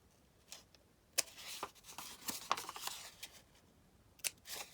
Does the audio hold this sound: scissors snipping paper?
yes